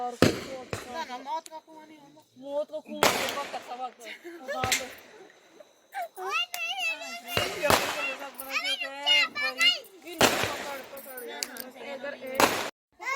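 Sharp firecracker bangs burst out at intervals, several loud cracks scattered over a noisy wedding procession crowd in Uttarakhand, India, with voices talking throughout.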